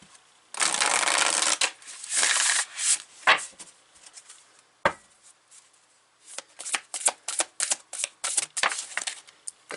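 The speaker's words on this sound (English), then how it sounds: "The cards are coming out quite easily, which is a great indication." Tarot cards shuffled by hand at close range: long riffling bursts first, then a run of short, quick slaps and flicks as the deck is cut and reshuffled, with no talking.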